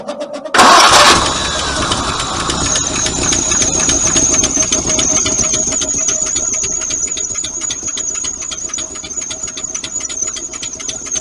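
A 1951 Packard with AC 46 spark plugs cranks briefly in a loud burst, catches and settles into a steady idle with a rhythmic ticking pulse and a thin high carburetor whistle running above it, close and alone.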